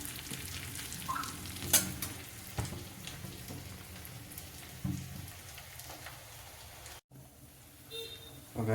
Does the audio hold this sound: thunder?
no